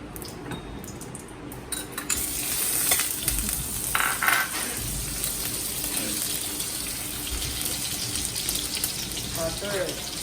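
Vegetables sauté in hot oil in a home kitchen pan, giving a steady sizzle and frying hiss along with clinks of utensils and stirring throughout, and a voice comes through faintly at times.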